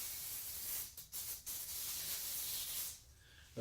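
An aerosol spray can sprays onto the scalp after a DHI hair transplant, with close, hissing bursts broken by short pauses and a final longer spray toward the end.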